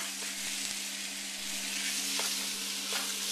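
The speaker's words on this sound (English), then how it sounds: "So we're just going to kind of brown the beef here." Ground beef and onion brown in a pan on a very hot stove burner for chili, a dense steady sizzle close up with a few faint taps of stirring, no voices.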